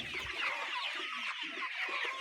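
Layer chicks cluck at feeding time in a quick run of soft, overlapping clucks and chirps, close and fairly quiet, with no talking.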